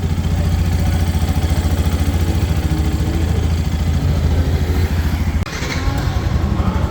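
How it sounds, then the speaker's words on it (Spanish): Engine of a 2026 Yamaha FZ 3.0 motorcycle idling, heard close to the cylinder as a loud, even low-pitched chugging with ticking mechanical clatter and a brief knock near the end. "Y un poquito del sonido del cilindro."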